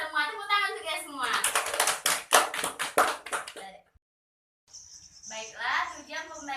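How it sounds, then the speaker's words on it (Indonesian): Children in a classroom clap together in a brisk, dense burst lasting a few seconds, close and lively, with a teacher's voice before it and more talk resuming after a short silence. "Tepuk tangan untuk ya semua."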